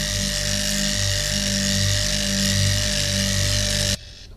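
Power buffer polishing a carbon fiber sport-bike windshield runs as a loud, continuous close whir with a steady hum and rubbing friction, then cuts off abruptly near the end, leaving quiet room tone.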